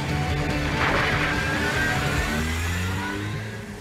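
Renault 4L car revving and pulling away, a mid-pitched small engine note rising briefly then fading as it drives off, fairly close.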